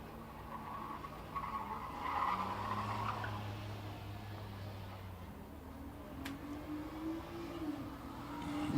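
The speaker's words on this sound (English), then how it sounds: "That's John Hebner in that Chevy Monte Carlo." A Chevy Monte Carlo race car runs a qualifying lap at La Crosse Speedway in Wisconsin, its engine droning and rising in pitch with some tire noise, heard from a distance at modest volume.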